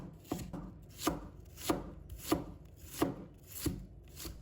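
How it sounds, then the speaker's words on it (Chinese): Knife chopping an onion into strips on a cutting board, about seven crisp evenly spaced cuts with a steady rhythm, close and clear with no talk. "再准备适量的洋葱， 把它切成丝。"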